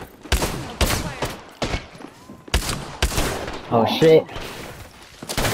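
Sharp bursts of gunfire ring out in Apex Legends, several loud separate shots spread across the moment, with a player talking briefly between them.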